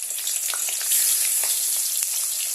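Fish heads sizzle and crackle in hot oil in a wok, a steady close frying hiss with scattered pops throughout, no talking.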